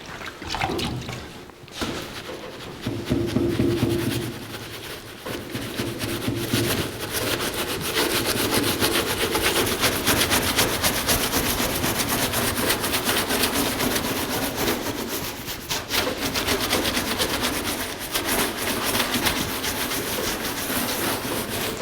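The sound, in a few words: rubbing dirt off a Jeep CJ7 rear tire carrier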